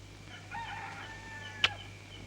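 A rooster crows once at moderate distance, a drawn-out call over a quiet background, followed by a brief sharp knock.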